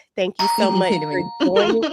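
A doorbell chimes indoors with a sustained bright ding-dong tone that rings out under a woman's continuous close-up speech, loud and clear throughout the short stretch.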